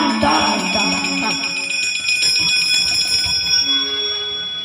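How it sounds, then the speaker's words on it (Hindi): A bell rings several times in succession during a Bhagavat Katha recitation, its bright metallic tones overlapping and lingering, loud and close. "घंटी बजी, ton ton ton ton ton."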